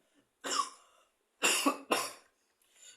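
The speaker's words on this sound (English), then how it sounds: "I am coughing a little bit" Three short, dry coughs close to the mic, the last two in quick succession, followed by a faint breath.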